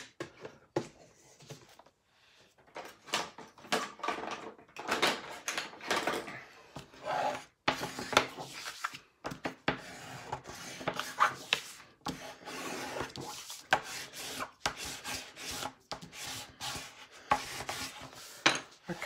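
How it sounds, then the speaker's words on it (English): Decorative papers are rubbed and burnished down by hand onto a mini album's pages, giving repeated close scraping and rubbing strokes in irregular bursts with brief pauses. "So you want to burnish those down."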